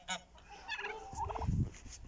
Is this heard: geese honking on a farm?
yes